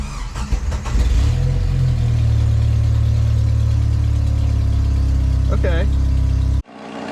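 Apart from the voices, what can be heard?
Jeep TJ engine started and running with 4-hole injectors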